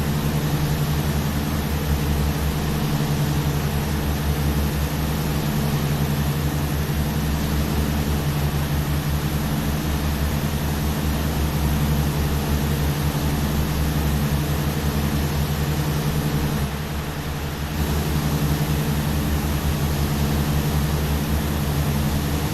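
Propeller engine drone of a Tecnam P2006T twin in X-Plane 12, flying near Honolulu: a steady, loud, tonal hum with a low throb, continuous throughout and briefly dipping near the end.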